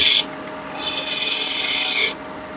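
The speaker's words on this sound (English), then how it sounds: "how I'm turning my spindle gouge and riding that bevel" A spindle gouge rides its bevel around the corner of a wood spindle spinning on a lathe, giving two dry, hissing scraping passes: a brief one at the start, then a longer steady cut of about a second and a half, close and fairly loud.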